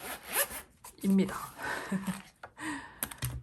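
A zipper on an Endless pen pouch opens and closes in several quick, close rasping pulls separated by short pauses, with a voice heard faintly alongside.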